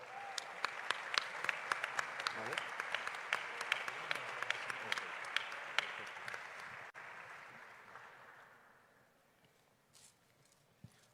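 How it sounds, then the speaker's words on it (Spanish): Sustained audience applause at a political event in Mexico with Morena party members present, dense clapping with a few sharp claps standing out, fading gradually toward the end. "especialmente a la compañera Blanca Montoya, a quien pedimos un aplauso, por favor."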